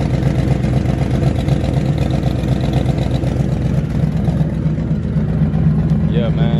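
A 400+ horsepower Ford Crown Victoria on 28-inch wheels idles with an exhaust leak, giving a steady, rough, close-up rumble with ticking pulses that runs without a break, while a voice talks over it.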